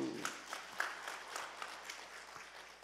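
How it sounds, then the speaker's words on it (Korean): A church congregation claps for its broadcast room staff during a service at a fasting prayer retreat, a soft, fairly distant patter of scattered hand claps spread through the room for about three seconds, with no voices over it. "우리 방송실을 위해서도 박수."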